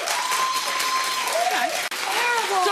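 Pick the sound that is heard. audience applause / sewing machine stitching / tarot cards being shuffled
audience applause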